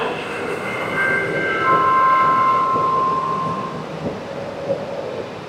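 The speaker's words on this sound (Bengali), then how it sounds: "এটা হচ্ছে এখানকার ইএমইউ ট্রেন" An EMU electric train at Butterworth station in Malaysia, on a metre-gauge line, rumbles loudly and steadily nearby, a broad low roar with a drawn-out tonal whine that rises and fades as it runs, with no voices.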